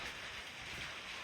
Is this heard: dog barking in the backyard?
no